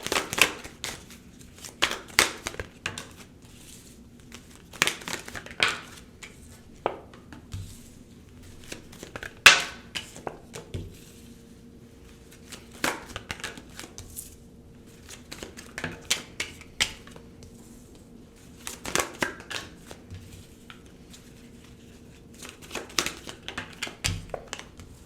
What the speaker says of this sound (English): Let me just pull some tarot cards.